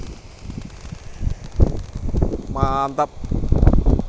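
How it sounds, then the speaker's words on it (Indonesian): Strong outdoor wind buffets the microphone in gusty rumbles at an evening gathering near a small fountain, with a short voice and a brief tonal honk-like sound breaking through midway. "Anginnya kencang sekali guys ini."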